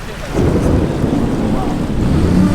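Deep thunder rolls continuously and loudly, swelling after a brief quieter moment into a sustained low rumble.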